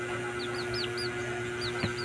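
A chick peeps in short, high chirps, several in a row with a pause, fairly faint over a steady background hum.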